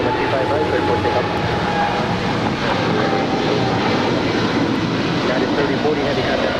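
A United Boeing 777-200ER jet airliner bound for Houston roars steadily and loudly at Los Angeles International Airport, a dense continuous engine rumble with no letup.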